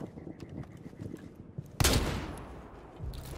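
Gunfire in a shooter video game, a loud burst of shots that cuts in abruptly and trails off, over a quieter background of game noise.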